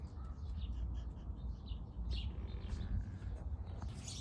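Birds call outdoors around a backyard vegetable garden with potted plants, potatoes and a plum tree, a few short caws and chirps rising over a steady low rumble of wind or distant traffic.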